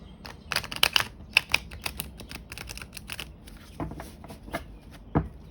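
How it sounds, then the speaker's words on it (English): Rapid bursts of riffle shuffling tarot cards, a few quick flurries of crisp fluttering clicks separated by short pauses, close and fairly quiet. "Let me try to riffle shuffle that bow out."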